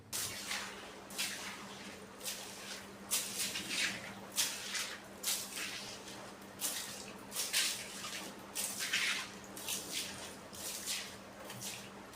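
Water runs from a balcony tap while the floor is scrubbed with a broom, giving a steady splashing hiss broken by regular rhythmic swishing strokes, fairly quiet and with no voices.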